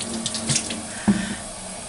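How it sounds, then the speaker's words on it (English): Lukewarm tap water runs from a slowed faucet stream into a sink, used for washing makeup brushes with a cellulose sponge. The flow is close and steady, with a brief louder splash partway through. "slow down the stream. I want the water sort of lukewarm"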